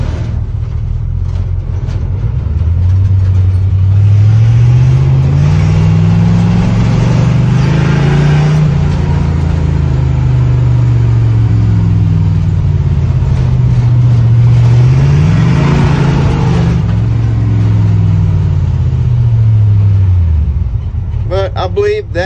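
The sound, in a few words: International truck engine driving in third gear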